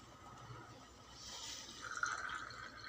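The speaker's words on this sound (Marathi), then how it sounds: "बघा एक कप दूध टाकत आहे" Full-cream milk is poured into tea: a faint, soft trickling and liquid splash that builds slightly toward the end, heard alone and fairly close.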